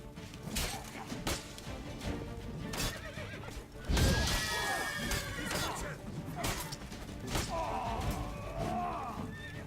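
Horse whinnies rise over a busy, clattering soundscape from the game The Witcher 3, with thuds and crashes, a loud burst midway, and voices in the mix.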